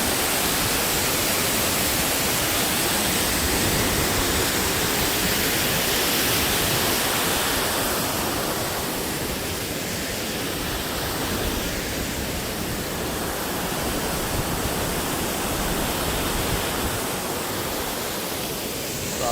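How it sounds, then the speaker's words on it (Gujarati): The Malan river in flood overflows and rushes past in a dense, continuous roar of moving water that stays loud and steady throughout with no voices. "કેટલું જાય છે જુઓ પાણી."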